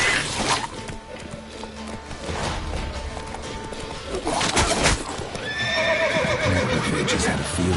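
Roach, the horse in The Witcher 3, whinnies loudly near the middle and end of the clip amid clip-clopping hooves and outdoor game ambience, with no talk over it.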